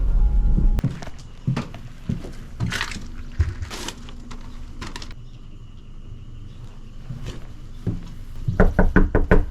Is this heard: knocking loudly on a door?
yes